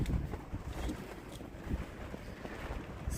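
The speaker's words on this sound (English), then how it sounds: "See how fast the wind's blowing." Strong wind, steady at about 25 mph with 40 mph gusts, blows dust across Quartzsite, Arizona, a close, low, pulsing rumble against the microphone with no talking.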